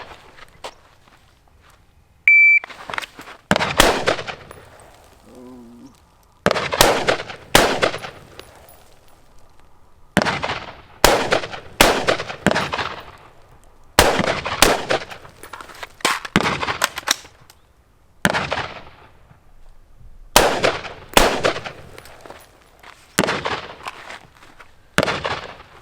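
Sharp gunshots crack out in a long irregular series, singles and quick pairs spaced over about twenty-five seconds with a short pause for a reload, during a handgun drill shooting at playing cards on a range; no one talks.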